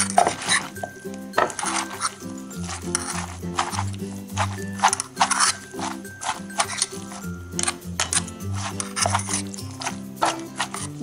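A pestle pounds spicy Thai salad ingredients of mushrooms, cabbage, chicken feet and squid in a mortar, making steady rhythmic thuds and clinks, close and loud, repeating for the whole stretch with music underneath.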